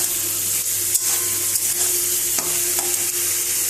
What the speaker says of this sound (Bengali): এই ভাজাটা আমি ঢাকনা চাপা দিয়েই করবো, তাহলে ভালো সিদ্ধ হবে